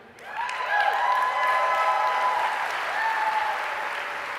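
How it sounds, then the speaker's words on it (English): Room audience applauding a corporate team at a business event, a dense, steady wash of many hands clapping that swells in quickly and holds strong throughout, with no talking over it. "A third of the room clapped."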